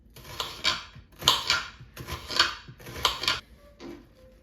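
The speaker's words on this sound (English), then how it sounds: "So first I'm gonna go ahead and slice up the onion." A knife slices through onions on a cutting board in a home kitchen, giving four bursts of crisp, crunchy cuts in a steady rhythm, close and clear with no talking.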